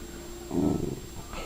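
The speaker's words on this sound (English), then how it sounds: "Oh, no growling." A short, low dog growl rising briefly out of quiet room noise, close and fairly soft, lasting under a second.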